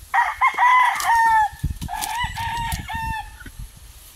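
Sweater Gray gamefowl roosters crow loudly and close at a chicken farm, with repeated drawn-out calls overlapping short clucks.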